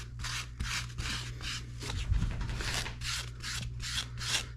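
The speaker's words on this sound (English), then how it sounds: "Now, I'll sand it." Rhythmic rasping strokes of sandpaper rubbing on a rubber dry suit neck gasket, about a dozen quick back-and-forth passes, close and fairly quiet over a low hum.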